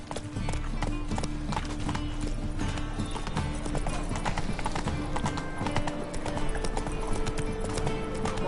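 Roach the horse gallops in The Witcher 3, a steady rapid clip-clop of hooves running throughout over a busy game soundscape, with a brief whinny and a voice speaking.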